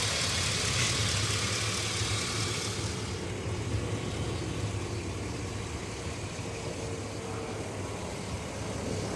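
A GMC or Chevy Silverado truck engine idles nearby after a knock sensor replacement, a low continuous rumble with a faint broadband hiss above it, unchanging for the whole stretch.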